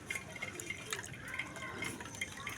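Water with ice in it being poured into a container for farm animals on a small farm, giving soft close splashes and trickles with small irregular drips and clinks, fairly quiet and with no talking.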